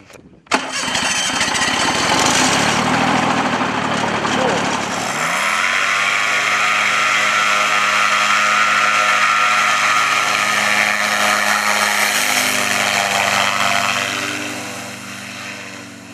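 An aerochute's engine cranks and catches, then settles into a loud, steady propeller drone heard up close. The drone runs for more than ten seconds before fading slightly at the end.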